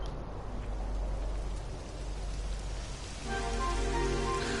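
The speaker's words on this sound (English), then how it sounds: "It would have to go and start raining, wouldn't it?" Rain begins falling in the Dragon Quest XI video game, a steady hiss of drops on surfaces that grows a little fuller partway through, with a faint tonal layer of game ambience entering near the end.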